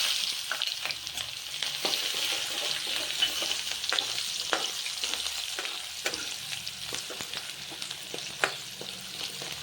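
Dried onion fries in hot oil with mustard seeds, cumin and coriander-cumin powder, a loud, continuous sizzle scattered with small crackles and pops.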